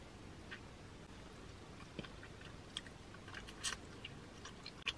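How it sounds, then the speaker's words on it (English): Someone chews the tough, chewy skin of a passion fruit close to the microphone, giving quiet, sparse soft crunches and wet clicks over a faint hiss. "It's so chewy. This is passion fruit."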